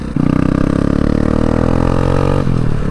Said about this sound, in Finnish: laitan pakoputkeen vähän patenttia, niin nyt se kuulostaa ihan imurilta.